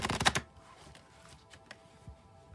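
Tarot cards are shuffled in a quick riffling burst at the start. Faint, scattered card taps and soft clicks follow before it falls mostly quiet.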